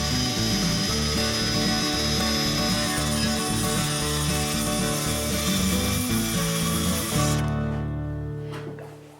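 A wooden backboard for mounting PVC is cut with a power saw, a loud, steady, grinding whine with rhythmic variations in load that winds down near the end.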